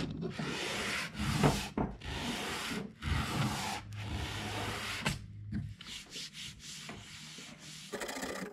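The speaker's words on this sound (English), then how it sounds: "work on this volute a little bit more, and then switch over to sandpaper and start trying to get this final thickness down" Sandpaper rubbing over a wooden guitar neck during carving, steady scratchy back-and-forth strokes in repeated passes with brief pauses, close and fairly quiet with no voices.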